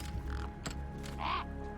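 A crow caws once in the video game Beyond A Steel Sky, a short harsh call near the end over a low background hum, preceded by faint clicks.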